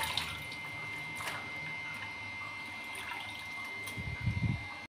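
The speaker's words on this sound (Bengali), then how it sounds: "তো আমি ভালো করে শাকটাকে ধুয়ে নিই প্রথমে।" Leafy greens being washed in water by hand before cooking, a steady wet swishing and trickling with a few splashy bursts near the end, close and continuous, no talking.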